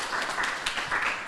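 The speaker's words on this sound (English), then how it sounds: "Let's give Commissioner Rodney Ellis another round of applause" An audience at a voter education meeting gives a round of applause for Commissioner Rodney Ellis, the clapping steady and moderately loud with no one speaking over it.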